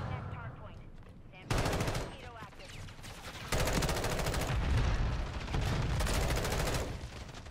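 Rapid full-auto fire from an M16 in Modern Warfare 3 crackles in loud bursts, a quieter patch giving way to sustained, close volleys that keep hammering with brief gaps between them.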